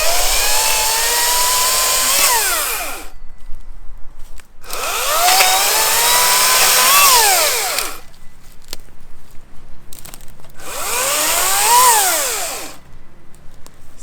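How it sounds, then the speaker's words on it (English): An ECHO 58v cordless chainsaw cuts storm-damaged wood in three loud, steady bursts, each rising in pitch and dipping as the chain bites, with short quiet pauses between cuts. "brand new chainsaw, brand new chain, all lubed up. So we'll make a few more cuts here"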